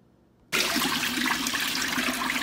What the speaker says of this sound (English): The brine goes down the drain.